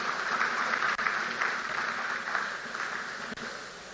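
At the official launch of a Nigerian diaspora initiative, an audience applauds a government minister with dense, sustained clapping at an even level, broken briefly by two sharp dips.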